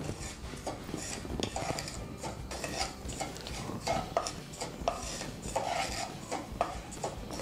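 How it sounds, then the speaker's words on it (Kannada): Semolina (rava) roasting in a pan for North Karnataka udura sajjaka, stirred continuously: irregular scraping and clinking of a spoon against the pan, soft and close, with light rustling between strokes and no voices. "ಇದು ರವೆ ಚಲೋತ್ತಂಗೆ ಹುರ್ಕೋಬೇಕು ರೀ, ಸ್ವಲ್ಪ ಕೆಂಪಕ್ಕಾಗೋವರೆಗೆ ಹುರ್ಕೋಬೇಕು ರೀ"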